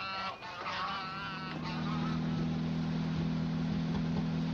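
A flock of about ten geese honks in a 1941 comedy film, several nasal calls in the opening seconds, then fading under a steady low engine hum that continues to the end.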